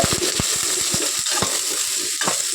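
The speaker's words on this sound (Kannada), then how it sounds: "ಇದಿಷ್ಟು ಸಿಂಪಲಾಗಿ ಒಗ್ಗರಣೆ ಕೊಟ್ಕೊತಾ ಇದ್ದೀನಿ" Mustard seeds, curry leaves and onion sizzle loudly in hot oil for a sambar tempering, a steady crackling hiss broken by sharp spitting pops and stirring clicks, close and with no talk.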